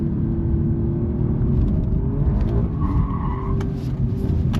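An Alfa Romeo Quadrifoglio is driven hard on a race track in race mode with the firmest damper setting, its engine giving a loud, steady, close rumble from inside the car alongside tire and road roar.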